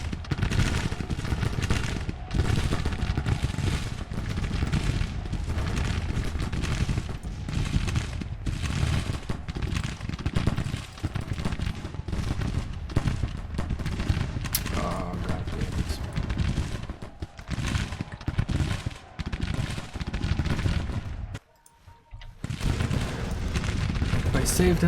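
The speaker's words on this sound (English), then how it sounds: "they're being fired upon, but they're not firing back" Dense musket volleys and booming artillery rumble continuously through a Civil War battle in Grand Tactician: The Civil War, with a brief lull near the end before the firing resumes; someone talks over parts of it.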